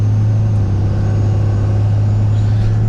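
A Cummins diesel truck with a 68RFE automatic transmission being driven gently: a steady, loud low engine drone with a strong constant hum and road rumble, no talk.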